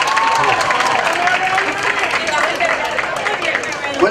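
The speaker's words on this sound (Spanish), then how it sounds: "le damos un aplauso, ¿no?" Crowd applause at a village festival verbena in Marcilla, steady clapping and some cheering from a large audience, continuous and fairly loud for the whole stretch, with a voice speaking over it.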